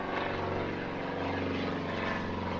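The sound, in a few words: small propeller plane flying low overhead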